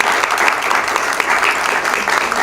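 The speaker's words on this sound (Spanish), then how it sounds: "Un aplauso para nuestro autor y nuestro conferencista." Steady, dense applause from an audience at a Cuban exile writers' club gathering, honoring an author and lecturer, sustained evenly throughout the short stretch.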